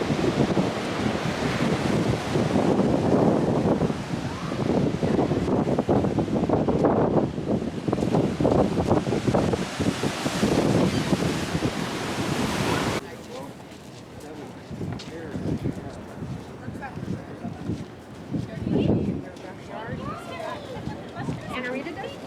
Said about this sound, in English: just love the sound, crashing waves.